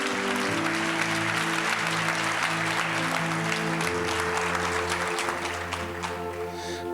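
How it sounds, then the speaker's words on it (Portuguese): A church congregation at an Easter service applauding loudly and continuously, with dense clapping over a sustained organ or keyboard chord that shifts partway through. "Dê uma salva de palmas a ele bem forte."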